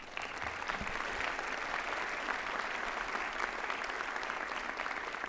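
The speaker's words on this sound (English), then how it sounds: "I'd like the students to give them all a clap." Students at a White Coat Ceremony clap for the support teams, a loud, dense, sustained applause from a large crowd filling a hall, steady throughout with no talking.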